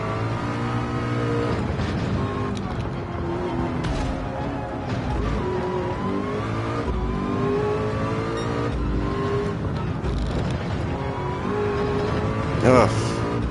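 In the PSVR2 Le Mans racing game, a race car engine howls continuously with rising and falling revs during a chase with a McLaren, loud and close, as someone talks over it.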